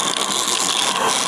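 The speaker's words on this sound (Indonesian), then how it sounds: "ini adalah bunyi bantaran getar." The vibrating pad of a cordless UV vacuum cleaner for mattresses runs with a close, steady buzzing rattle and mechanical whir, brief and alone.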